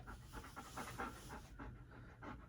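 An excited dog pants hard and fast right by the microphone, a steady run of quick breathy huffs with no talking.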